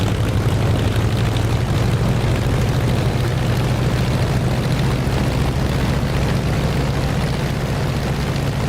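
Propeller warbird aircraft taxiing in the DCS flight simulator, a steady low engine drone and propeller rumble, loud and constant with no talk.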